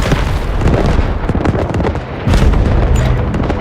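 An artillery barrage pounds the battlefield in Delta Force, with heavy booming blasts overlapping in a loud, continuous roll, a brief dip midway before another strong impact and further crackling bursts.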